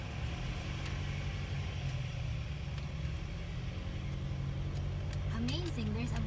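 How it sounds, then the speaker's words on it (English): A big bus rumbles along a provincial mountain road in the Philippines, its steady low engine drone continuous and fairly faint under people talking. "I know that there's a great big bus coming"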